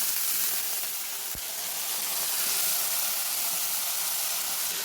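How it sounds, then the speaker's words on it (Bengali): Mustard paste mixture sizzling in a hot pan as a little water is added, a steady loud hiss and crackle of frying that holds throughout with one brief thump. "এবার আমি দিয়ে দিচ্ছি সামান্য জল"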